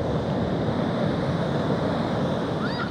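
Ocean surf pounds the shore in a steady, loud, continuous wash of crashing waves, with wind rumbling across the microphone and no voices over it.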